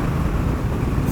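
A Triumph Bobber 1200 motorcycle chugging along in fifth gear on the road, a steady, dense low engine drone blended with heavy wind rush, loud and close throughout.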